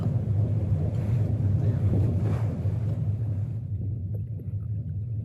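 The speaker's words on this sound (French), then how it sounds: "Les baleiniers, jadis à voile, ont été équipés de moteurs." A motor-powered whaling boat out on the ocean, its low engine rumble mixed with wind buffeting and water noise, fairly close, then dropping away sharply near the end.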